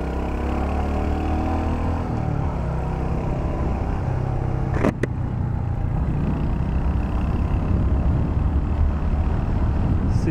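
Royal Enfield Hunter 350 motorcycle ridden at steady moderate speed, a continuous low engine drone with wind rush and a brief sharp click midway, no talking.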